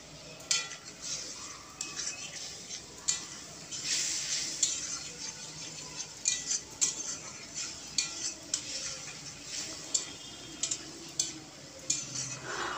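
Spice masala fries in a pan with a little oil and splashes of water, stirred with a spoon in repeated scraping and clinking strokes over a soft sizzle, close and moderately loud, with no speech.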